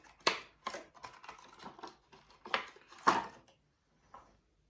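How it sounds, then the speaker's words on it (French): A massage exfoliating product is unwrapped from its package, with scattered close clicks, taps and rustles of handling and brief pauses between them. "attendez, je vais le déballer."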